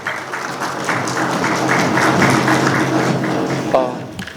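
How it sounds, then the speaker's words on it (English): A live audience applauds a speaker at a talk on social media content creation, dense steady clapping that swells and holds for several seconds before tapering, with a brief sharper sound near the end. "Let's have a huge round of applause for him."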